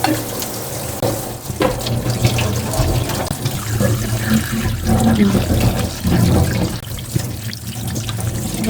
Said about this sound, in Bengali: একদম ঠান্ডা পানিতে ধোয়া হবে